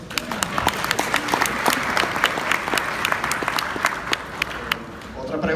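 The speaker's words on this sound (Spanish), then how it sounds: "Aplauso, aplauso." Audience applause at a 2018 CIO and IT conference session: dense, steady clapping runs through the whole stretch with sharp individual claps standing out, fairly close and loud, with no talk over it.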